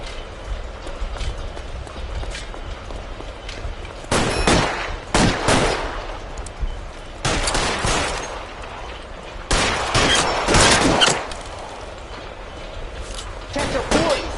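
Gunfire in the L.A. Noire video game: several bursts of rapid shots in clusters separated by pauses, loud and close over a low background rumble.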